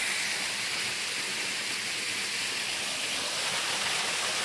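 Water runs down a mountain rock on the Sathuragiri hill trail in a steady broadband rush, constant and fairly loud with no breaks or talk.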